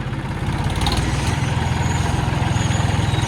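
A tractor engine idles steadily and loudly nearby, a low, even, thumping chug that holds without change throughout, with no speech over it.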